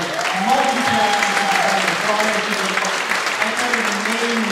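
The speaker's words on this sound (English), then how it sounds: "Big round of applause for Mary." Audience applause at a live vaudeville show, dense sustained clapping filling the hall, with a voice speaking over the crowd throughout.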